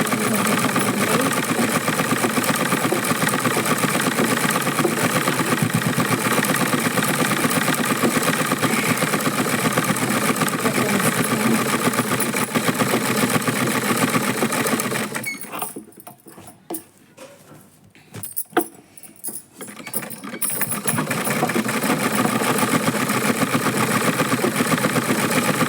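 Sewing machine stitching a blouse runs loud and steady for about fifteen seconds, pauses briefly with small clicks and handling sounds, then resumes its continuous whirring hum to the end.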